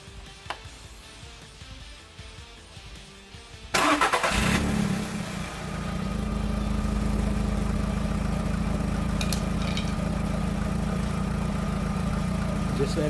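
Quiet background, then a Seat Ibiza 1.4 16v engine cranks and catches after an oil change, settling into a loud, steady idle that runs on.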